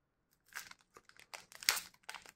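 A Pokémon card booster pack is torn open by hand, producing a quick series of crinkly foil rips and crackles, close but soft, with the sharpest tear near the middle and no voices.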